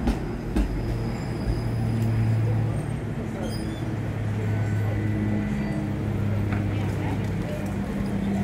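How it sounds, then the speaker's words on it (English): Westbound Toronto streetcar passing in downtown Chinatown, a steady loud rumble of wheels on rails with a few sharp clanks, heard under a person talking. "And this coming streetcar, this is westbound."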